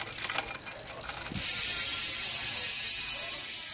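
Shimano two-chainring crankset on a touring bicycle with suspension, shifting between chainrings; a brief mechanical clicking burst, then a close, steady ratcheting whir of the drivetrain continues alone.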